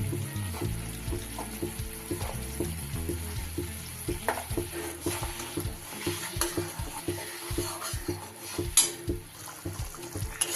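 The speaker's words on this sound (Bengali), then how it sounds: "এটা কিন্তু ক্রমাগত নাড়তে হবে, না হলে নিচে লেগে যাবে" A spiced masala with nuts for butter paneer is stirred steadily in a pan, producing soft sizzling under repeated scraping and clinking stir strokes at close range, fairly quiet and without speech.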